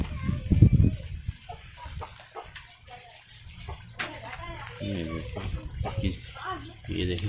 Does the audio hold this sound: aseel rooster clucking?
yes